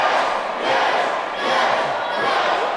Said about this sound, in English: The crowd are really getting into this